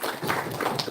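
Applause at a Filmfare press conference, a dense, even patter of many hands clapping for a short stretch, moderately loud and with no speech over it.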